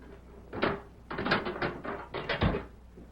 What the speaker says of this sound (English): That evening, Sheriff Matt Gorman went to Deke Bauer's cell and unlocked the door.